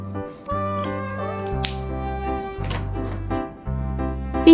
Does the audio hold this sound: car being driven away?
no